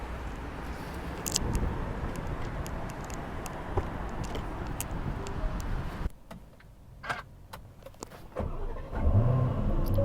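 A new Aston Martin DB12 idles and rumbles steadily up close, then goes briefly quiet before the engine fires again and builds toward a louder, revving note at the end.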